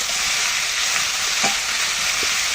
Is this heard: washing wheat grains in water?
no